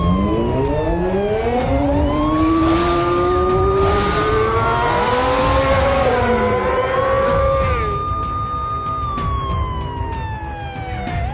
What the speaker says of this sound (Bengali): বাইক গ্যাংকে ধাওয়া করছে।